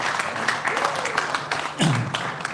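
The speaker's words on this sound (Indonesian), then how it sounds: "tepuk tangan untuk komika" Audience applause for comedians at a roast-style comedy show, a short burst of clapping that swells near the end as a voice speaks over it.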